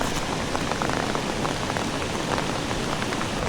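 Steady rain pours down during a day of an international casting fishing tournament, a dense, even hiss of drops falling close by with no talk over it.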